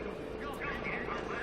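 Helicopter performing aerobatic maneuvers at the Tianjin Helicopter Expo, a steady broadband rotor and engine roar under a narrator's voice.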